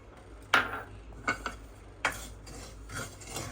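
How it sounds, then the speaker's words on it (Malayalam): Semolina (rava) being dry-roasted and stirred in a hot pan for kesari: quiet, intermittent scrapes and sharp clinks of a utensil against the pan, a few seconds apart over a low background hum. "റവ നന്നായിട്ട് വറക്കണം."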